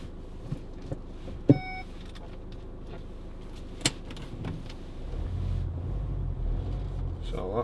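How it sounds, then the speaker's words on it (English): Inside a moving Skoda Yeti 1.6 TDI, the parking system gives a clear electronic beep over the low road and engine rumble, with scattered small cabin knocks and a rising drone of driving noise afterward. "So that's to say the optical parking system's activated."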